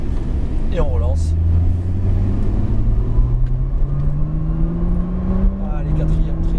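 Porsche 911 Turbo S accelerating on the Michelin circuit, a steady engine drone rising in pitch through the gears with a brief shift dip, heard from inside the cabin under a driving instructor's coaching voice.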